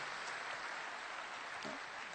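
Audience applause for the staff at an event, a faint, even wash of clapping from a distance that holds steady throughout.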